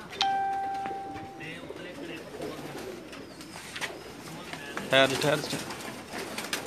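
Pakistani pigeons on a Jeddah rooftop give soft repeated coos amid a chime-like ring and nearby chatter, with a louder flurry of calls near the end.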